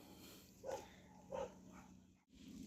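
Dogs in a backyard garden give two quiet barks a moment apart, faint and somewhat distant against low outdoor ambience.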